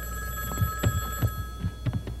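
An old-fashioned telephone bell rings in short repeated bursts, about four or five rings in two seconds, loud and close over a steady electrical hum with no talk.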